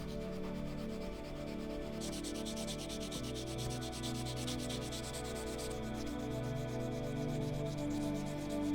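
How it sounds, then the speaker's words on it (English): A steel knife blade being hand sanded up to a 400 grit satin finish, heard as steady rhythmic back-and-forth abrasive strokes that are close and continuous, over a low steady background hum, with no talking. "I hand sand the blade all the way up to a 400 grit satin finish."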